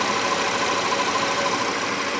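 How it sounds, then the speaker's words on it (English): A Cadillac SRX engine idles steadily with its air-conditioning compressor running, a constant mid-pitched drone with a faint whine, heard up close with no talk. "the compressor kicked in right now"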